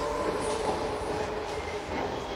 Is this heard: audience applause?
no